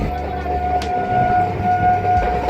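Baruipur–Lakshmikantapur local train at Namkhana station, a loud, steady rumble of railcars with a sustained horn tone running through it.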